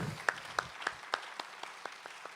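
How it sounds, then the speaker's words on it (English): Sparse, faint clapping at a concert in a medieval fortress in Târgu Mureș: about nine distinct claps in a loose, slowing rhythm that tapers off, heard from a distance. "Let's give him a huge round of applause."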